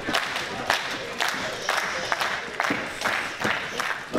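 A small wrestling crowd at a Battle Club Pro match claps in scattered bursts, close and moderately loud, with voices and shouts mixed in.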